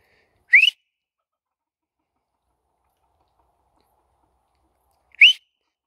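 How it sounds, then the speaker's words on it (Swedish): Two sharp, high-pitched rising finger whistles, short and loud, separated by several seconds of silence, outdoors behind a henhouse. "Jag håller på och övar på att komma på min busvissling."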